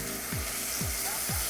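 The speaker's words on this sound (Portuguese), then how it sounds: "E vou te mostrar que ele sela rapidamente." Meat sears in a hot pan over high heat for a rib and sirloin dish, giving a steady, close crackling sizzle with three soft sweeping stirs or turns passing through it.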